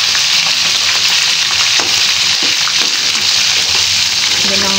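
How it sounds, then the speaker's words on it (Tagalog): Chicken pieces brown in a pan for Filipino chicken adobo, making a loud, continuous, close sizzle with stirring clatter and a voice talking over it. "Yan, ba-brown muna natin ng konti."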